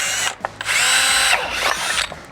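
Up close, a power drill bores drain holes in a DIY fountain, giving a loud high whine that starts, holds steady for about a second, then bogs and wavers as the bit grabs, with no talking.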